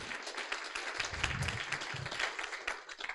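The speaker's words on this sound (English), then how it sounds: "a round of applause for Sarah" A conference audience claps for a pitch presenter at a climate startup competition final, a dense, steady wash of many hands applauding at moderate distance for about three seconds.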